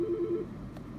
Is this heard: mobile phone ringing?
yes